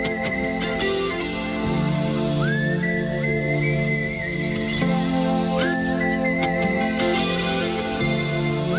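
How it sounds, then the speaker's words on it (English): A melodic whistled tune, the opening of a song, rises and slides in clear sustained phrases over a steady band accompaniment, loud and close. "One of the better whistle openers of any song ever."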